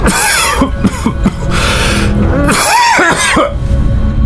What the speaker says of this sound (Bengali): হঠাৎ একটা ভাঙা কাশির শব্দ